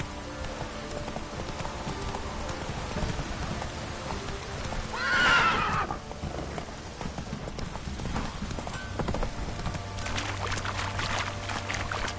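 Roach, Geralt's horse in The Witcher, gives a clear whinny midway through, rising above steady clip-clopping hooves and a soft watery background that continue around it.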